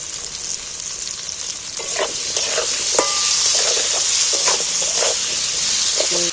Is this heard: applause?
no